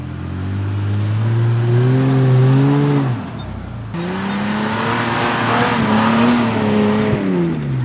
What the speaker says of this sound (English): Demi's trying to get the trailer up.